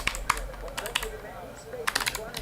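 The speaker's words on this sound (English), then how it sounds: "You can hear my clickety clack. Clickety clack with my Mac." Keys clatter on a Logitech computer keyboard in quick irregular bursts of clicks, close and fairly quiet over a low background hum.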